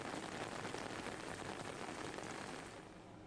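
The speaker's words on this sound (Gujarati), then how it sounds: "ગાજવીજ સાથે વરસાદે ધમાકેદાર એન્ટ્રી કરી" Heavy rain pours down in Junagadh district after a sudden change in the weather, a dense, unbroken hiss of drops striking surfaces up close that eases slightly toward the end.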